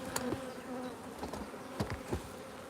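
Honey bees buzz up close in a steady droning hum, individual insects whirring past with rising and falling pitch.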